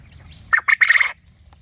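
Japanese jumbo quail gives a loud, close call of three quick harsh bursts within half a second, with no other sound around it.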